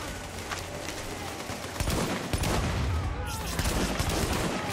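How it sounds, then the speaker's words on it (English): Gunfire in the video game The Division, dense overlapping rapid shots in a continuous fusillade with a speaking voice mixed in, loud and close throughout. "Why is he shooting at me, of all people?"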